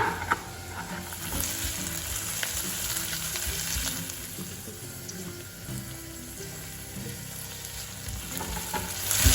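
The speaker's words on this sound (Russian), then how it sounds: "Слегка обжариваю чеснок для того, чтобы он дал аромат." Chopped garlic fries lightly in a pan with onions for a vegan soup, producing a continuous close sizzle with scattered crackles and a few louder pops near the start and end.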